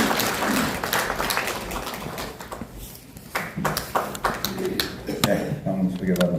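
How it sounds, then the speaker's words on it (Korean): Scattered audience applause at a newspaper's 20th-anniversary ceremony rises and thins as a guest speaker is welcomed, with voices and a loudspeaker announcement sounding over the clapping. "여러분 박수가 필요합니다."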